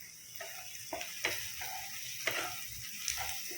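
Spices with chili powder sizzle softly in a pan, a low hiss broken by irregular ticks and small crackles, close and fairly quiet with no talking.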